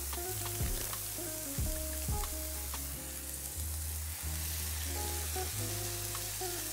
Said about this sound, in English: we are going to add my burger to a hot pan.